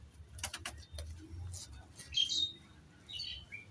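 A Jiriya Madras pigeon, a small long-feathered bird held in the hand, gives soft, faint coos and a few brief chirps amid light handling noise, with no talking.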